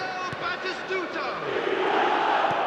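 Stadium crowd roar in the eFootball video game, a steady broad wash of many voices swelling slightly louder toward the end, with a commentator speaking over it.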